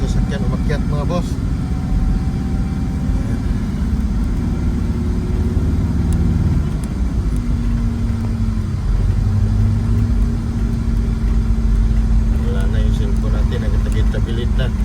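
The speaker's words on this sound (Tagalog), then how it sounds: "Hirap yung sasakyan umakyat mga boss." A vehicle engine labors uphill with a steady, loud low rumble and shifting drone that rises as it strains, while someone talks over it throughout.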